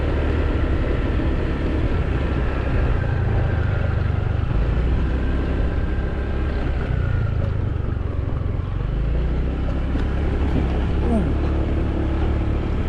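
Honda PCX 150 scooter ridden off road across rough ground at around 15 mph, a steady close engine drone mixed with rattling and bumping from the terrain, continuous for the whole stretch.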